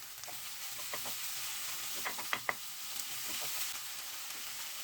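Okra, onion and tomato pieces fry quietly in a pan under a soft, even sizzle, with a few light spatula taps and scrapes near the middle.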